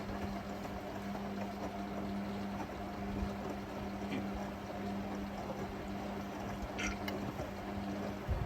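A Hotpoint WMA58S washing machine runs its 1400 rpm spin cycle on a cotton load, a steady, dense whirring and rushing drone with a constant low hum, even and unbroken throughout, with no speech.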